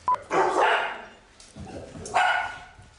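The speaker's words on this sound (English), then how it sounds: "Dogs." Dogs bark in two loud, close bursts separated by a quieter gap with faint background noise.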